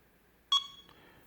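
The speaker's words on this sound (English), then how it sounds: "It will beep." A first-generation Armstrong SDWF-MC202 fingerprint lock gives a single short, sharp electronic beep in a quiet room, followed by a faint trailing tone.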